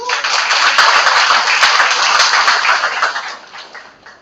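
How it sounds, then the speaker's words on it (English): Audience at a university international conference clapping for a woman, a few seconds of dense, loud applause that fades near the end. "Give a clap for the lady, please."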